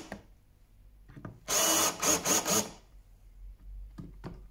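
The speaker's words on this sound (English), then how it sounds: "Countersink." A power drill with a countersink bit bores into wood in one loud, close burst of about a second, its whine rising and dipping, with faint handling knocks before and after.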